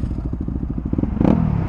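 A Ducati motorcycle with loud pipes chugging nearby, rapid rhythmic low exhaust pulses followed by a brief sharper blip of throttle, loud and up close.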